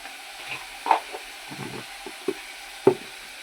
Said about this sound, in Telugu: వేసిన అల్లం అంతా ఇగో ఇట్లా మంచిగా కలుపుకోవాలి